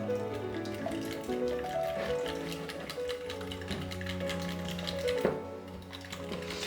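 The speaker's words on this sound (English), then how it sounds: "so just going to whisk all that together" Scone ingredients are whisked together in a medium-sized bowl, giving a rapid, continuous run of close metallic ticks and clinks against the bowl.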